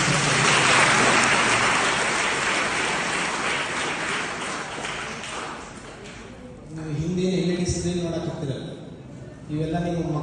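Loud, sustained audience applause fills the first six seconds at a spiritual talk, then fades as a voice speaks over the dwindling clapping.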